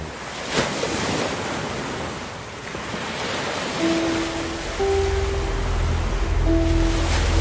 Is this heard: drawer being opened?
no